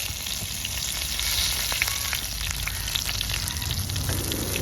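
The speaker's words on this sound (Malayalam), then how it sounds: "ആവശ്യത്തിനുള്ള കരിവേപ്പില നമുക്ക് ഇട്ട് കൊടുക്കാം തളിക്കാനായിട്ട്" Curry leaves and mustard seeds sizzle in hot oil for a tempering, giving a steady loud crackle with scattered sharp pops and spatters close by, continuous throughout.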